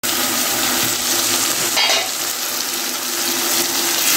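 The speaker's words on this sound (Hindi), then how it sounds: "तो आप देख सकते हैं मसाला कितने अच्छे तरीके से भून रहा है।" Masala of tomatoes and green chillies sizzles loudly in a pan as it is fried, with faint stirring over a steady close crackle.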